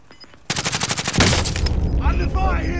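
Rapid automatic gunfire bursts out in a video game, dense and loud, with a sharp boom partway through and voices talking over the fighting afterward.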